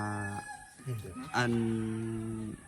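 A single rooster crows loudly nearby, a long cock-a-doodle-doo with a brief pause between its opening and drawn-out final note.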